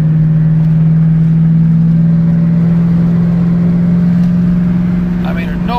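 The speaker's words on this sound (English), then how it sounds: "being able to just listen to the car, just roll down the freeway" A Ford Mustang with a Coyote V8 cruises on a freeway, its engine holding a loud, steady low drone at constant speed from inside the car, while a voice talks over it.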